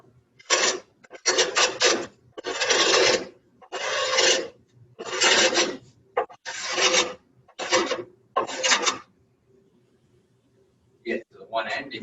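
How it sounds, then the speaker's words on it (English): Dried glue scraped off a glued panel seam, a series of harsh, rasping strokes, each lasting about half a second with short gaps, loud and close, ending in quieter scrapes. "I push down and pull straight back towards myself. And I'm going to do that on the glue line."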